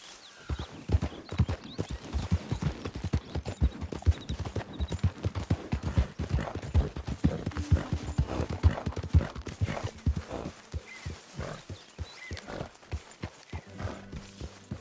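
Horse hooves clip-clop in the Red Dead Redemption 2 video game, a brisk rhythmic trot of sharp hoof strikes, loud and close, with an occasional whinny and faint voices underneath.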